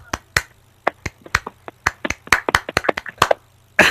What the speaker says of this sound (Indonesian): Tepuk tangan Pramuka.